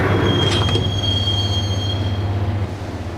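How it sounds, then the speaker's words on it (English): Train riding along rails in the video game Max Payne, a loud close rumble with a steady low drone and a sustained high wheel squeal that fades near the end. "the train doors had already shut behind me, and I was in for the ride"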